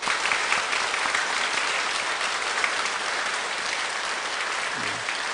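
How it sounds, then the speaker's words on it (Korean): A church congregation applauds to welcome visiting Sunday school teachers, a dense and steady wash of clapping that fills the room without pause. "카메라 우리 박수로 환영하겠습니다"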